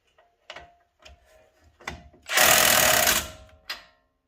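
A Milwaukee power tool tightens a tie rod end on a Silverado front suspension: a few short clicks and bursts, then one loud sustained mechanical whirr of about a second, followed by a final short burst, close by.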